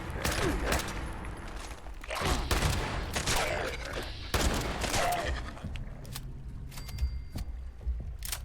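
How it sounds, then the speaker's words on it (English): Combat rifle gunfire in the Fallout 76 video game: repeated bursts of shots at a steady loud level across the clip, with short pauses between volleys. "Like, I like the combat rifle."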